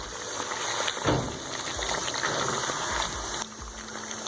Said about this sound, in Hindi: इसको मज़ीद हम 5 मिनट के लिए फ्राई करेंगे ताकि इसका कच्चापन ख़त्म हो जाए